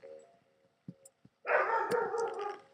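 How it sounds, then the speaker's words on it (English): A dog barks in the background of a Spore game session, a few short yips followed by a louder, sustained burst of barking. "my dog is barking in the background"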